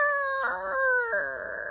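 A flock of chickens gives a synchronized alarm call for an aerial predator: a sustained, drawn-out tonal cry that wavers and pulses over about two seconds, moderately loud with no talking.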